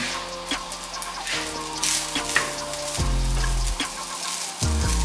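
Day-old rice sizzles with crispy garlic in a very hot pan for Thai-style fried rice, a steady loud frying hiss broken by occasional stirring scrapes and clinks.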